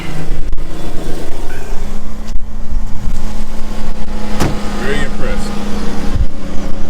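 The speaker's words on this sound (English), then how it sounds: "Very impressed with this car. It fired right up." A car engine runs loudly and steadily close by, with a few clicks and bumps cutting through the continuous rumble.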